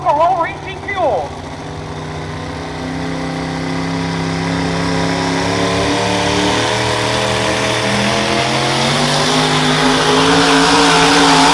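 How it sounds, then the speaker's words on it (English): A twin-turbo 2005 Chevy Silverado pulling truck running alcohol racing fuel at a truck and tractor pull, its engine revving up and rising in pitch into a loud sustained roar, with a brief voice at the start. "a 2005 Chevy Silverado, smokeless, running twin turbochargers, but still runs alcohol racing fuel"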